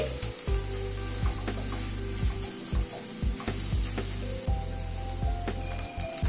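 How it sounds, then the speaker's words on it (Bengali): Ginger paste and green chillies frying in a pan while being stirred, a soft constant sizzle under a steady low hum, with repeated light scraping strokes and no talk. "আদা আর কাঁচা লঙ্কাটাকে দিয়ে আবার একটু নাড়াচাড়া করে নিচ্ছি"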